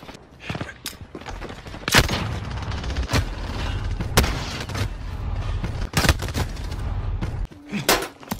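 Video game gunfire, scattered sharp shots and short bursts, some very loud and close, spaced irregularly over a rumbling combat background.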